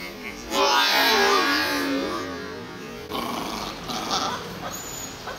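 A dog growls and snarls in close, loud bursts, then continues with rougher, fainter grumbling noises indoors.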